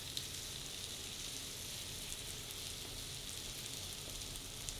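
Jalapeno cream cheese chaffle batter sizzling in a waffle maker, a soft, even hiss of frying crackle held steady throughout with no voices.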